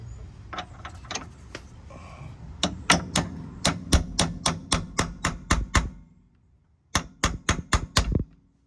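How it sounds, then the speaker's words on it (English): A hammer strikes a metal car suspension part in a run of sharp, evenly spaced taps, pauses briefly, then delivers another quick series of blows, close and loud. "I'm gonna tap it with the hammer"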